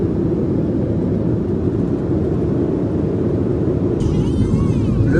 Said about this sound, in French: On n'est pas dans l'avion, on va monter dans l'avion.